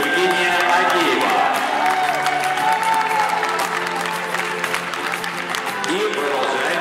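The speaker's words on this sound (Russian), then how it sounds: "В финале приветствуем, аплодируем пару номер 369." Crowd applauding a dance couple in the final of a youth standard ballroom competition in Minsk, steady loud clapping and cheering filling the hall throughout, with an announcer's voice over it.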